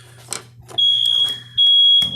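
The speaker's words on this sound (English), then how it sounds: "Some of that jelly got down in the oven, so now it's making the fire alarm go off." A smoke alarm set off by jelly burning in an oven during fruit canning sounds in two long, loud, shrill high-pitched blasts, with a few clattering kitchen noises before and between them.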